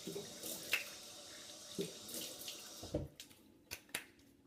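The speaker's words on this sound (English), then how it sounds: "I'm just going to wash off my face." A tap runs into a sink while someone washes their face after shaving: a steady rush of running water, with splashes and drips and a few sharp taps toward the end.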